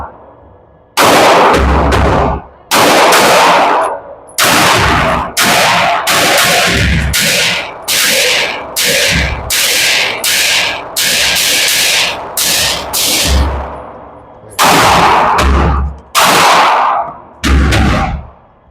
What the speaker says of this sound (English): Let's go ahead and run this Kimber.